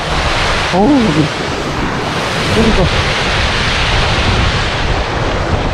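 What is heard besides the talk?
flowing water, stream swollen after rain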